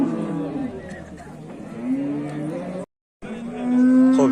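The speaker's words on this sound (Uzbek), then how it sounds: "yana bir rossiyskiy olaqora sigirimiz" A Russian black-and-white cow moos loudly several times nearby, long drawn-out calls broken by a brief silence, with people talking at times around it.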